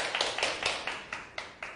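A small audience claps in sparse, separate bursts, about eight distinct claps spread across a brief moment, fairly faint and with no voices over them.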